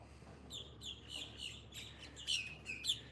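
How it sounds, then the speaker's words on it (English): Birds calling near the water among pontoon boats at Disney Fort Wilderness, a series of bright repeated chirps and tweets rising over quiet ambience, a few sharper calls near the end. "Look at all the birds."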